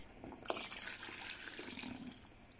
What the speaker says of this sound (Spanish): Y agrego medio litro de agua más.